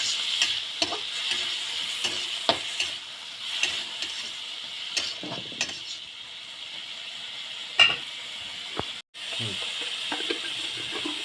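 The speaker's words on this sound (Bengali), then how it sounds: "দেব কাঁচা লঙ্কা, তারপরে দিয়ে দেব কলার খোসা কুচি, নাড়িয়ে মিক্স করে নিলাম।" Chopped banana peel and green chilli stirred in a frying pan, a constant bright sizzle broken by regular scraping and tapping spatula strokes, close and moderately loud.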